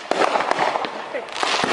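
Early fireworks launched ahead of the 4th of July, heard as a rapid series of sharp cracking pops at mid distance, scattered irregularly over crackling background noise.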